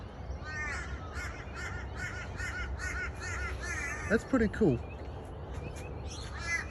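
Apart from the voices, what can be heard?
birds calling at dawn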